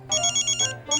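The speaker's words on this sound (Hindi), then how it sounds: "ये वाला फोन बज रहा है।" A mobile phone ringtone plays a quick run of bright, evenly spaced electronic pulses that pause briefly and then resume, close and clear with no talking.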